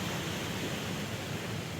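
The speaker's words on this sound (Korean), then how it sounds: "이런 자연의 물소리를 들으며" Natural water flowing near a footbridge on a morning walk, a dense continuous rush with no breaks, steady and fairly close.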